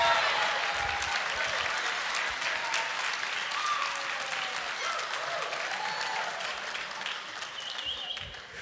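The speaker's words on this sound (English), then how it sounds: "You're cheering." A church congregation cheers and claps steadily, dense applause filling the room at even loudness throughout, with scattered voices rising out of the crowd.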